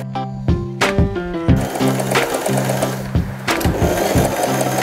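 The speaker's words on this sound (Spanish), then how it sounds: "Levanta el prensatelas, gira a 90 grados, bájalo y cruza hacia el otro lado del cierre." A Janome 3016 sewing machine stitches across a zipper. A loud, close, rhythmic mechanical chatter of needle strokes is broken by short pauses and clicks.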